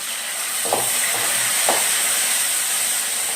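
Dried red chillies sautéed in a pan for sambar give a steady hiss and sizzle, with two soft stirring scrapes of a spoon against the pan. Nobody speaks.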